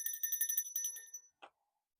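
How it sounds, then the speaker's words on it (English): A small hand bell rings over a pendulum for sound cleansing: quick, bright, tinny repeated strikes that fade within about a second, followed by one soft knock in near silence. "I could use a bell"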